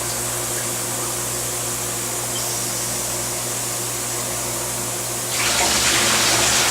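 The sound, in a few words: water draining from stainless steel wet bench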